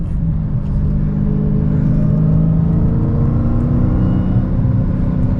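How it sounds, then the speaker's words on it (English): Supercharged Dodge Challenger SRT Hellcat with a 6-speed manual accelerating hard, heard from inside, a deep steady rumble with a rising supercharger whine layered over it, continuous and loud. "That supercharger whine just sounds so good."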